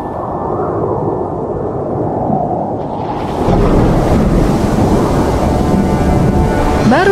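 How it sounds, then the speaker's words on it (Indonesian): A heavy thunderstorm sound effect for a children's story at sea: low rumbling thunder swells, then loud rushing rain and wind surge in and continue steadily, close and dense. "hujan badai tiba-tiba saja datang, membuat seluruh awak kapal menjadi panik."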